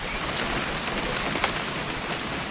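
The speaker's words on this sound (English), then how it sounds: "It's gonna rain the whole weekend, isn't it?" Steady rain falls in the video game What Remains of Edith Finch, a dense even hiss of drops on surfaces with a few brighter individual splashes, continuous and fairly close throughout.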